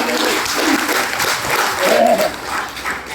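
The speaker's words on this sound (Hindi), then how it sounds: "पहले एक दमदार ताली हो जाए" Applause from the audience at a Hindi comic poetry gathering, a dense steady patter of clapping lasting throughout, with a faint tone and voices mixed in underneath.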